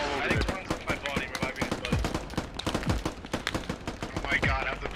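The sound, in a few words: gunfire in the video game Squad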